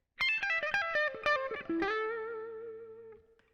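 A quick run of distorted electric guitar notes picked in rapid succession, ending on a sustained ringing note that fades out.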